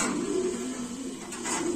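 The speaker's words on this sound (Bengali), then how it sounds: "এইখানে আছে হইলো ডেনিশ কবুতর" Danish pigeons at a pigeon seller's stall give a low, soft cooing, faint and brief against quiet background noise.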